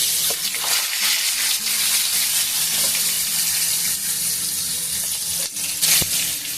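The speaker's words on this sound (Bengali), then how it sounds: "এগুলোকে আমি এখন ভেজে নেব" Parboiled potatoes for Kashmiri aloo dum sizzle in hot oil in a pan, giving a dense, steady, close-up frying hiss with brief louder crackles and no voices.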